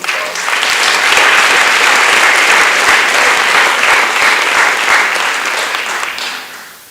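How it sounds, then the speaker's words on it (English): An audience applauds at a high school athletic awards ceremony, loud sustained clapping that swells in quickly, holds for several seconds and then tapers off. "let's give them another round of applause"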